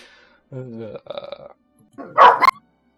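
Dogs bark indoors in a few short, loud bursts, with a gap of quiet between the barks.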